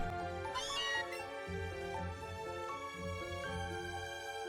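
A Pokémon meowing in Pokémon Let's Go Pikachu, a clear cat-like meow rising early over game music that plays steadily underneath.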